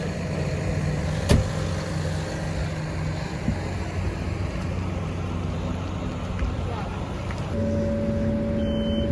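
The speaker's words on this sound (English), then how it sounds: "The soil trailer." Soil trailer driving on a potato farm during harvest, a steady low engine and rolling drone that stays constant throughout, heard from inside or near the vehicle with wind noise and no talk.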